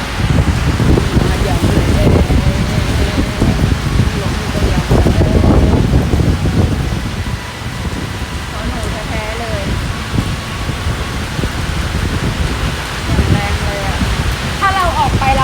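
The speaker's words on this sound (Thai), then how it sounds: "เมื่อเราจะออกโอ้ฝนก็ตกลงมาแล้วครับผม" Rain falls during a bike ride at a temple in Thailand as a steady hiss mixed with wind noise on the microphone, while someone talks over it.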